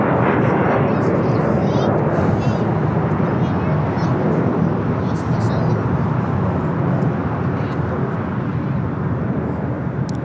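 Boeing 747 taking off at Los Angeles LAX, a loud, steady broadband jet roar that holds for about ten seconds, with voices talking over it throughout.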